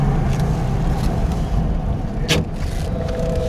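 A vintage Morris car engine running while driving, a steady low rumble with road and wind noise and one brief sharper rasp partway through.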